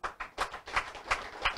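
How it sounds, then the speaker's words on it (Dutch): Audience applause at a public gathering in Nickerie: a faint, thin patter of a few hands clapping in a loose, irregular rhythm of about eight claps. "En daarvoor wil ik een applaus hebben."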